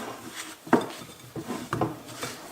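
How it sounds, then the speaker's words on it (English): Butter and sugar are creamed by hand in a bowl for chocolate cupcakes, with a few close scraping and knocking strokes of a utensil against the bowl. "I'm just going to quickly cream my butter and sugar together."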